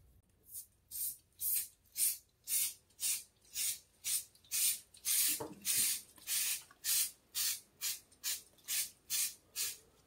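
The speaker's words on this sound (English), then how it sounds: "just hit it with a little bit of spray adhesive" Spray adhesive hissing from a can onto static grass on an HO scale model train layout, in a steady rhythm of about seventeen short, even bursts, close and fairly loud.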